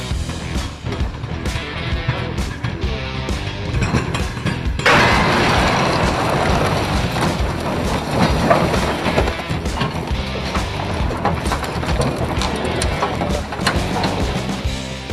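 A train strikes a buffer stop in a low-speed crash test, giving a loud sudden impact crash followed by sustained grinding, rumbling and mechanical clatter.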